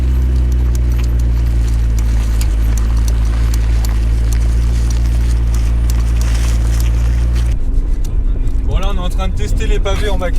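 A McLaren supercar rolls slowly over cobblestones, giving a low, steady engine rumble with rattling bumps from the road surface. A voice talks near the end.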